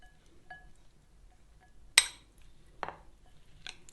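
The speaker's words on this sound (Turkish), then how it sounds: "Şimdi hepsini birlikte karıştırıyorum." A spoon turning black olives and softened sun-dried tomatoes together in a bowl makes a few sparse, crisp clinks against the dish, quiet and close, with no talking.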